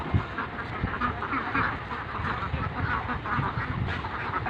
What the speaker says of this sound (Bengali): চীনা হাঁসের বাচ্চা।